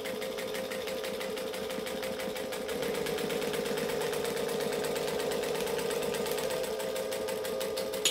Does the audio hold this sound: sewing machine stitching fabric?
yes